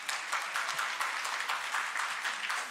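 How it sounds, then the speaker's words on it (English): Audience at a business summit in Kisumu breaking into steady applause, a continuous crowd of clapping hands at moderate level with faint voices underneath. "Ladies and gentlemen, a round of applause for Yvonne Okwara."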